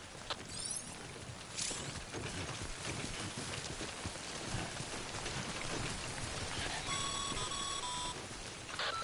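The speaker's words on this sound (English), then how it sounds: "Don't stay out in the rain any longer than you have to" Steady rain hissing down across the landscape of the video game Death Stranding, a dense continuous wash of drops with electronic beeps and chime-like tones surfacing near the end.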